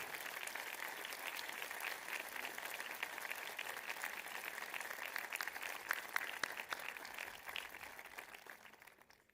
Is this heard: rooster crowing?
no